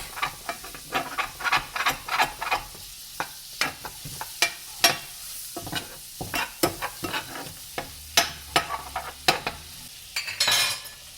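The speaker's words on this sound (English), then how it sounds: "Throw in my butter. And this I'm going to saute my garlic in this." Garlic sautéing in melted butter in a skillet, heard as a quick run of sharp clacks and scrapes from stirring over a soft sizzle, close by, with no voices.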